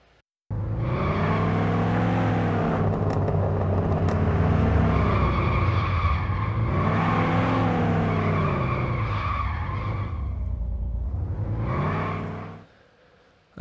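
A simulated car engine in Unreal Engine revs up and down while the tires squeal in long skids, all under tunnel reverb. The sound is loud and continuous, with rising and falling pitch, for about twelve seconds before it fades out.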